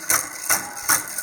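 A small motor drives a worm gear on a model traffic light, giving three evenly spaced mechanical whirring pulses close by, with a steady faint hum between them.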